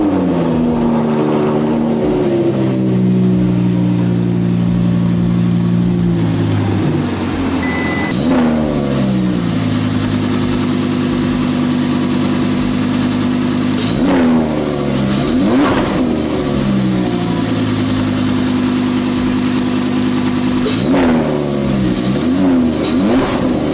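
An Audi R8 with a newly fitted exhaust growls loudly and close at idle, rising through several sharp revs that climb and fall back, steady and deep throughout with no talking.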